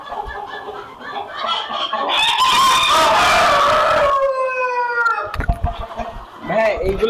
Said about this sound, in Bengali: হ্যাঁ এইগুলা কি মুরগি?